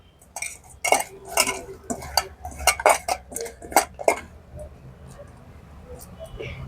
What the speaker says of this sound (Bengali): তো নুন হলুদটা মাখিয়ে নিচ্ছি হালকা করে, দিয়ে রেখে দেবো